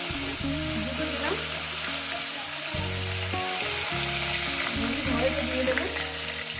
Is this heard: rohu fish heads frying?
yes